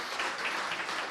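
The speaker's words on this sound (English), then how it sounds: "If we can give him a round of applause" A short burst of audience applause at a Silicon Slopes marketing chapter event, a dense and even patter of many hands clapping with no speech.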